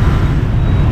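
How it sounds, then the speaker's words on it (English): Dense roar of busy street traffic in Ho Chi Minh City, a steady wash of engines and road noise close by, with no talk. "the loud noises, the horns, the busyness, the traffic."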